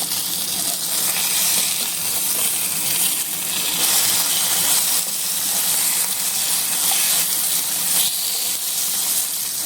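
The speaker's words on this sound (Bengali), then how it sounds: "তারপরে মাছটা ভেজে নেব সুন্দর করে, হালকা লালচে লালচে করে ভেজে নেব মাছটাকে" Fish frying in oil in a pan, a loud, continuous crackling sizzle with a bright, dense hiss that holds steady throughout, close and without talk.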